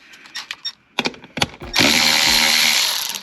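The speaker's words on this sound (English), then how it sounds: "Next, remove these two bolts right here." A few light metallic taps and knocks come first, then a loud power tool whirs steadily up close while bolts are removed during a handbrake install on a Lexus GS300.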